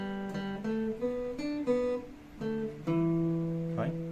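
Guitar in a beginner lesson plays a short melody of single plucked notes, about eight notes in a steady stepwise sequence, each ringing briefly, close and clear with no talking.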